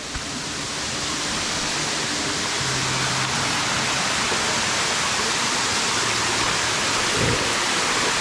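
A waterfall with cold water pours in a steady, dense roar that swells slightly at the start and then holds loud and unbroken throughout.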